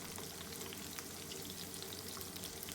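Ivy gourds frying in oil, turned over in a pan: a steady, even crackle of frying that holds at a moderate level throughout, with no voices.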